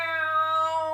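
A storyteller's voice imitates a cat's meow, one clear sustained tonal call up close.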